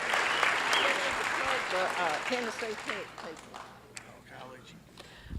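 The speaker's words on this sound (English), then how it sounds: "Give them a big round of applause" A crowd at the Mule Day festival in Columbia, Tennessee applauds the 2012 Mule Day Queen and her court. Applause fills the opening seconds beneath an announcer talking over it, then thins as the talk continues.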